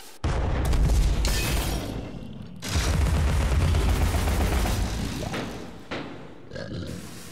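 Cannon crabs firing in the video game Alice: Madness Returns, heavy booming shots with rumbling blasts that overlap into a loud, continuous barrage, easing off with a final fading boom.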